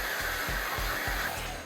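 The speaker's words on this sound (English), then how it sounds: "And then have your buddy hit the vacuum." A vacuum cleaner runs with a steady, loud whooshing roar and low pulsing motor throb, close by and uninterrupted, used while assembling DIY acoustic panels.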